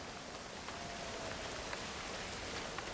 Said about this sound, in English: I love how refreshing the cool raindrops feel.